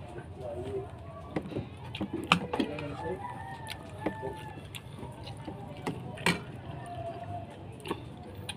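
Rooster crowing and hens clucking at a farmyard breakfast scene, a few sharp crows and scattered clucks at moderate distance over steady outdoor background noise.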